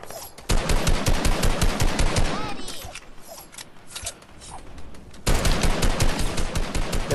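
Rapid automatic gunfire rattles in two loud, dense bursts during a Fortnite fight, separated by a quieter stretch of scattered shots and mechanical clatter.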